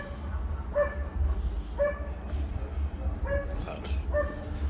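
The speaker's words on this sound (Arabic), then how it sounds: "انا سمعت صوت كلاب بتهوى من بعيد" Several dogs bark and yip at a distance in a regular rhythm, four short bursts spaced about a second apart over a low rumble of background noise.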